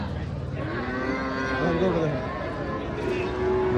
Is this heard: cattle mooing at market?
yes